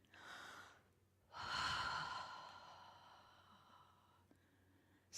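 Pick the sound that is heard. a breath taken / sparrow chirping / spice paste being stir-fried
a breath taken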